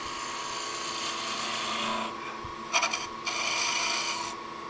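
Skew chisel cutting a bead on a spindle turning on a wood lathe: a steady close rasping scrape over the lathe's hum, briefly breaking off before resuming.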